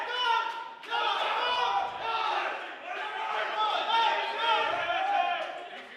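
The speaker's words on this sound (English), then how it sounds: "You can hear it through my mic. The crowd's going crazy." A crowd at a powerlifting meet roaring and yelling in sustained waves, picked up through a headset mic, with shouted voices rising and falling throughout.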